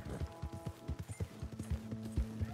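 Hooves clip-clop in a quick irregular rhythm as a horse sets off at a gallop in the open-world western game Red Dead Redemption 2, close and moderately loud over a low game hum.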